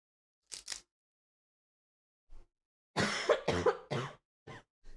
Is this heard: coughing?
yes